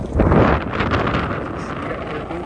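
Strong wind buffets the microphone at a beach in Okinawa, a loud, steady rumbling roar that swells early on and then holds, with no voices heard.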